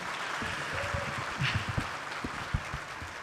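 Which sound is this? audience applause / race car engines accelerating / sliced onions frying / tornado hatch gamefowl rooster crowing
audience applause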